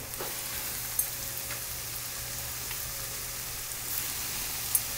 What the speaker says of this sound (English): Beautiful, beautiful fry. Like a pan sear.